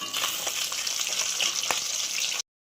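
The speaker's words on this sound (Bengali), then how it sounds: "এখানে মাছটা ভাজা হচ্ছে" Fish frying in hot oil in a home kitchen, a steady close sizzle that crackles with a few sharper pops throughout before stopping abruptly.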